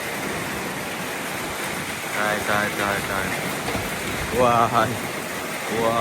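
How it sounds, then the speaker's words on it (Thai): Steady roar of heavy rain and wind from a storm in Laos, with a voice speaking briefly over the storm noise. "ทั้งลมทั้งฝนพี่น้อง"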